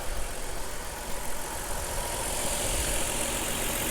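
A Dodge Caravan engine idles steadily after a serpentine belt replacement, producing a loud, even mechanical hum and whir with no pauses, heard close up from the engine bay.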